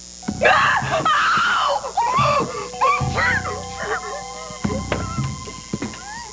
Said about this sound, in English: it sounded like a scream